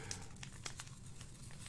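A yeast packet being handled for homemade Welch's grape wine: quiet, close crinkling of a small foil-paper packet with a few sharp crackles amid light rustling.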